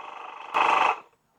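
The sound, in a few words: portable air compressor of car jump starter inflating a ball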